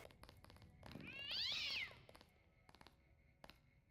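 A cat in the Deus Ex: Revision video game lets out a single loud, drawn-out pained meow after being stepped on, rising and falling over about a second amid faint game background noise.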